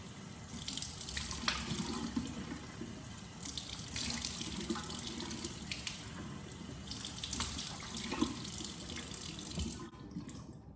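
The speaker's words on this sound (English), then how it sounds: "Very gently rinse the face." A tap runs steadily into a sink while a face is gently rinsed after laser skin treatment, with a continuous close splashing flow, a few louder surges and the water cutting off at the end.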